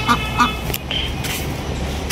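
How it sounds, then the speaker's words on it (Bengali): Ducks let loose near a rural house quack in a few short, nasal calls, fairly close, with faint outdoor background between them. "এদিকে হাঁস আছে, হাঁসটি ছেড়ে দেওয়া হয়েছে"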